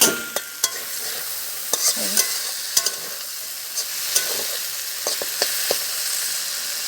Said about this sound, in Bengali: এদিক বসিয়ে দিয়েছি হচ্ছে বটবটি ভাজা